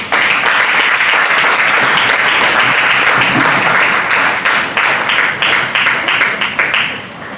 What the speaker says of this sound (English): The way we just clapped